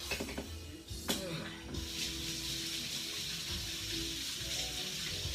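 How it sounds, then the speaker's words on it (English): Tap water running in a sink while hands are washed during cooking, a steady close hiss starting after some brief clatter and persisting to the end. "Let me wash my hands here."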